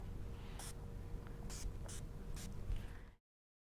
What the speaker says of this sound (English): So I'm going to spray your face with my setting spray.